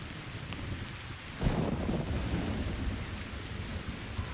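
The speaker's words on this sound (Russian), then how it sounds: "Прям дождь. Прям в лицо так и бьет." Heavy rain in the game Metro Exodus pours steadily and loudly throughout, a dense hiss of drops that swells after a short burst of wind, with no talking.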